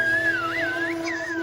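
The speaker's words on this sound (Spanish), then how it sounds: "¿Y de dónde aprendieron los guanches a comunicarse con el lenguaje de los silbidos?" A whistled language of the kind used by Saharan nomads and shepherds carries as one sustained, clear whistle that glides and warbles up and down in pitch, heard alone over a soft low hum.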